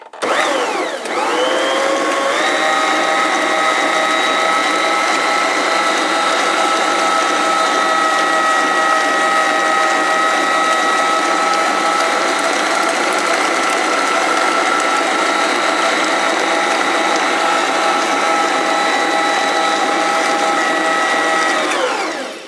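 An electric mixer beats oatmeal cookie dough with raisins, its motor holding a loud, steady whine that rises as it starts and runs evenly for over twenty seconds without any voices.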